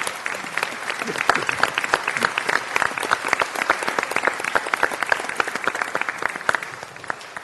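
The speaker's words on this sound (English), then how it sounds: "now it's appropriate to applaud for John" Audience at a city budget hearing applauds a retiring city employee, with dense, sustained clapping from many hands that stays even and moderately loud throughout.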